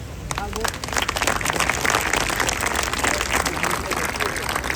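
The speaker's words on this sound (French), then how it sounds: "je pense qu'on peut les applaudir" Outdoor crowd applause at the inauguration of a public square in Saint-Laurent-du-Var, France, a continuous mass of clapping from a gathered audience, sustained and even throughout.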